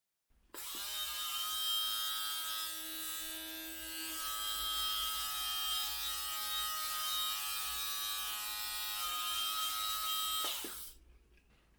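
A Xiaomi Deerma electric lint remover with three blades runs steadily for about ten seconds, a close, even, high-pitched motor whine with a bright buzzing hum that starts and stops abruptly, with no talking.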